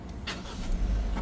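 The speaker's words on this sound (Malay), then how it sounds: "Itu cara dia lah untuk start enjin Saga" A Proton Saga MC3 fires up via its push-start button, a short cranking whir catching into a low, close idling engine hum.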